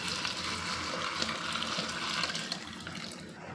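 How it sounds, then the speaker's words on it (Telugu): Hot water poured into a pot of fried rice for chicken biryani, a steady rushing splash and gurgle with some bubbling, continuous and close throughout. "ఇప్పుడు ఇందులోకి వాటర్ వేసేసుకుంటాం."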